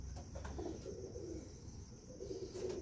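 Champion pigeon pair, quiet low cooing in short repeated bursts nearby, fairly faint overall, with a soft background hum and a few light clicks.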